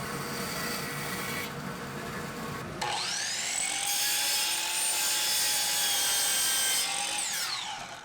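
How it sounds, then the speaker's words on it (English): A CNC router pockets and cuts the outline of a piece of spalted maple. A steady, loud machine whine with a rising and falling spindle tone plays over continuous cutting noise, close and without voices. "I used the CNC to pocket and cut the outline, then put a bevel on all the edges"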